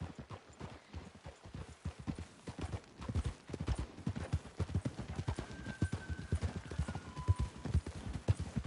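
Rapid horse hooves clip-clop in a steady galloping rhythm in the video game Red Dead Redemption 2, close and loud, with a couple of faint tonal whines rising briefly over the hoofbeats.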